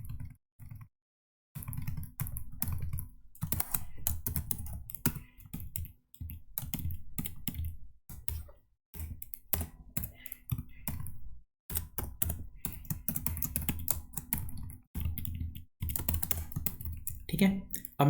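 Typing a spreadsheet formula on a computer keyboard: steady bursts of close key clicks and taps with brief pauses between runs.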